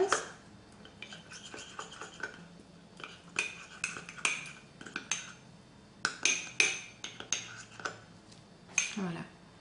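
A gloss base gets stirred in a small container, with a utensil clicking and scraping against the sides in irregular bursts, close and fairly quiet, with brief pauses between strokes.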